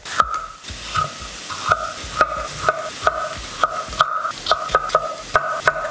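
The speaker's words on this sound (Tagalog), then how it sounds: "Palambutin lang muna natin yung sibuyas." Onion sautéed in a pan for monggo, with a close sizzle broken by regular rhythmic scrapes and clinks of a spatula against the pan, about two per second, no voices.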